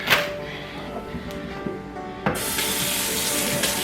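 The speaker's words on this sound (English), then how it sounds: "So after I get this rice washed out really, really well, and you see that water" Cold tap water runs into a sink while rice is rinsed in it for a home-cooked jerk chicken meal, a steady close splashing stream with a brief clatter partway through.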